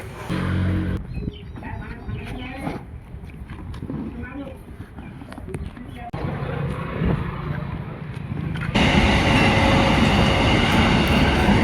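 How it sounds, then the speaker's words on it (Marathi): A passenger train rolls past close by, its wheels and carriages rumbling and clattering steadily and growing louder toward the end as the last coaches go by, with a voice talking over it. "बघू शकता ट्रेन चाललेली आहे या साईडनं"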